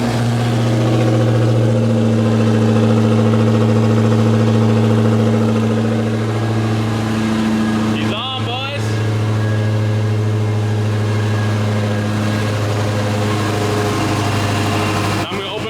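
A Demon-swapped Chrysler 300 with a catless exhaust fires up for its first startup, settling into a deep, loud, lumpy idle close by with a brief blip partway through, as people talk over it.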